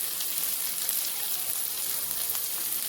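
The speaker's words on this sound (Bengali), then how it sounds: "দেখুন এপাশ ওপাশ করে নেড়ে পেঁয়াজগুলোকে আমরা ভেজে নিচ্ছি।" Chopped onions frying and being stirred in a pan for a homemade chicken samosa filling, giving off a steady, close crackling sizzle with no voices.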